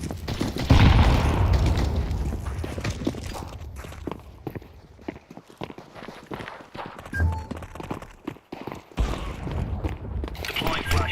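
A Counter-Strike 2 match: a heavy grenade blast booms early on, followed by scattered gunfire, running footsteps and further low thuds, with game voice callouts heard over the action.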